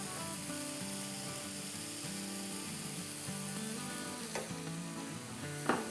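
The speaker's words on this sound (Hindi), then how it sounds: "2 टेबलस्पून मैदा है, इसको भूनेंगे।" Two tablespoons of flour roasting in a pan for a Salisbury steak gravy make a soft sizzle beneath steady background music, with a couple of brief scrapes near the end.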